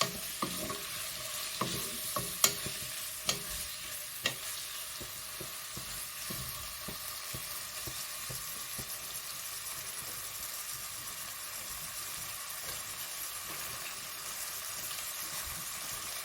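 Meat pie filling browning in a pan, a steady close sizzle and hiss with occasional stirring clicks and scrapes, continuous and even throughout, no voices.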